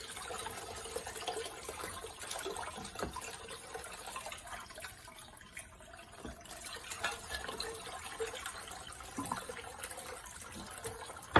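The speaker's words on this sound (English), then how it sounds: "We'll rinse them once, and then we will get them set up on this incline so that they won't sit in water" Fresh water runs over and rinses sprouting seeds, then drains off them on an incline, a steady broadband splashing and trickling with scattered drips throughout, fairly close and moderately loud, no voices.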